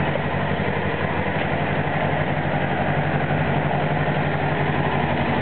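A 1995 Suzuki RF600R motorcycle engine idles steadily with a low, even rumble, close by and unchanging throughout.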